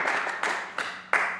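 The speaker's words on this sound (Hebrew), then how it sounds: "מגיע לו כפיים לצדיק הזה, רבותיי" An audience at a Torah lecture applauds a man with a few loud, rhythmic bursts of clapping, spaced evenly as if the room claps in unison, with no talking over it.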